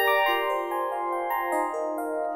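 A bright FM electric piano tone from a Yamaha YC61, bell-like, plays a few sustained chords an octave up, clear and close, with no voices.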